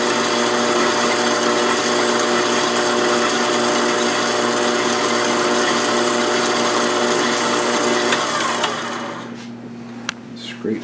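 An electric mixer beats popover batter with a steady loud motor whine and whir for about nine seconds, close by, then it stops, leaving a few light clinks.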